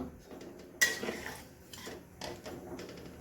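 A metal spoon scrapes and clinks against a pot of curry on a gas stove in a few separate stirring strokes, close and moderately loud.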